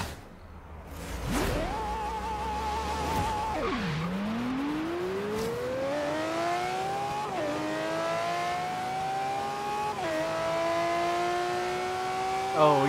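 A Lamborghini Murcielago drag races in Forza Horizon 3. Its engine climbs in pitch through the gears, drops sharply at each shift and rises again in long sweeps under steady game noise.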